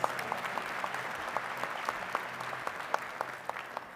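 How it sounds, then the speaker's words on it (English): A commencement audience applauds steadily for several seconds, a broad dense wash with distinct nearer individual claps standing out, heard a bit distant and fairly soft. "she deserves applause too"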